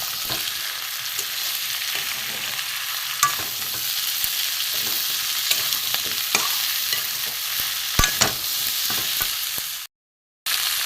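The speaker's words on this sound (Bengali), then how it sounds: "দিয়ে একটু ভালো করে ভাজবো পেঁয়াজের সাথে।" Okra frying with onion and spices in a little oil, a steady close sizzle broken by repeated spatula scrapes and taps as it is stirred, ending in a brief silence.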